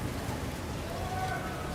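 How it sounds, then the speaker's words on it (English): Heavy rain pouring down in a sudden downpour on a New York City street, a steady dense hiss of drops hitting surfaces, close and continuous for a brief moment. "It's like a wall of rain."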